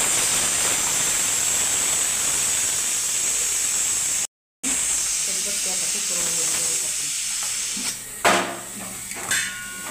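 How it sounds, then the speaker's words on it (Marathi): A pressure cooker of toor dal and pumpkin vents steam after its whistle is removed, a loud steady hiss that cuts out briefly and then continues more softly, ending with a couple of clanks. "शिट्टी काढायची पटकन निघते"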